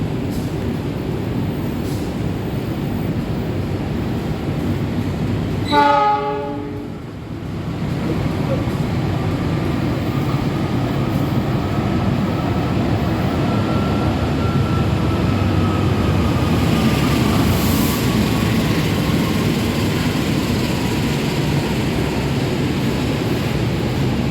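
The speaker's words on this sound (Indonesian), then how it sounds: "Segera melintas langsung kereta api barang." A freight train passes straight through a railway station and sounds one short horn blast, followed by a long, steady rolling rumble.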